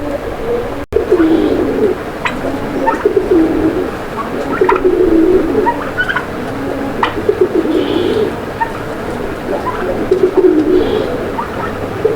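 Raj-golla and large pigeons coo steadily in low, throaty bursts, several birds overlapping close by, with a few faint chirps in the background and no talking.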